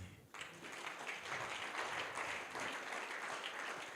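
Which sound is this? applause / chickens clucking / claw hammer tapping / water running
applause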